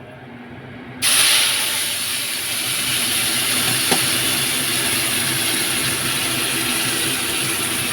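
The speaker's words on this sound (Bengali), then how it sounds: "একটু চিমনিটাকে চালিয়ে নিই।" A kitchen chimney exhaust hood switches on about a second in, jumping to a steady, loud broadband whoosh with a high whine that runs unbroken to the end, with a single faint click partway through.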